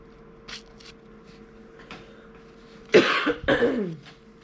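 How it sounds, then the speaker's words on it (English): A pair of loud, close coughs bursts out after a few seconds of quiet room hum, the second cough trailing off in a rough exhale. "Coughing in your ear."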